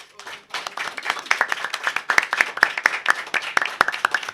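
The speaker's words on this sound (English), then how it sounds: "if you could just give one final round of applause for all the guys" An audience breaks into a short burst of applause, a dense patter of hand claps building quickly and holding steady for a few seconds, fairly close and lively.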